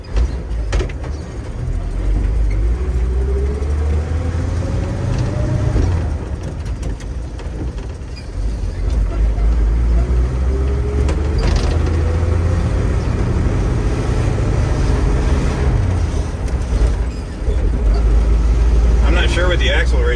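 A 1978 Chevy G20 van in third gear cruising down the road: a steady, loud engine drone and road rumble with rising whines as it accelerates, and someone talking over it throughout.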